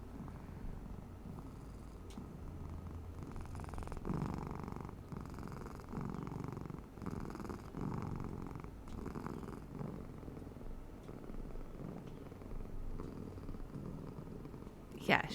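A cat named Bean, held close to the microphone, keeps up a low continuous purr, partly masked by background noise and a few faint sounds, ending with a brief sharp click.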